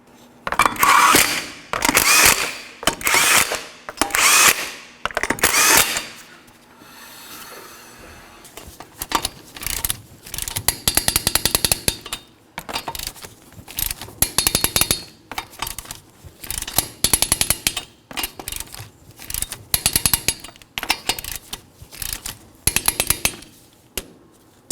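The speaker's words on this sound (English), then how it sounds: "torque each of these lug nuts to 87 foot-pounds" Repeated bursts of mechanical clicking and ratcheting as a torque wrench tightens lug nuts on a 2013-2019 Nissan Sentra front wheel in a crisscross pattern, a series of short loud clusters with brief pauses between them.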